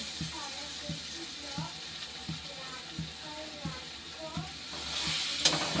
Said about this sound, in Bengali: আলুটা এখন নাড়াচাড়া দিয়ে নিলাম